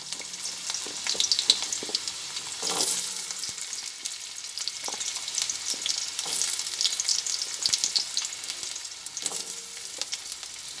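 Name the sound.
cumin seeds frying in a pan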